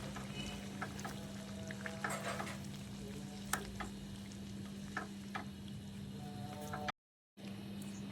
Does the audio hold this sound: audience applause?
no